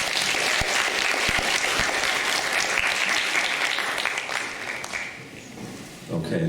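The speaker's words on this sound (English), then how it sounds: "Everyone, please give a big round of applause." Audience applause at a security policy forum, a dense steady clapping that fills the room for several seconds, then thins and fades toward the end.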